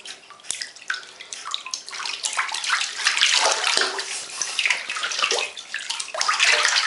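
A small child kicks and splashes in a filled bathtub. Continuous loud sloshing and slapping water runs throughout, close up, with no talking.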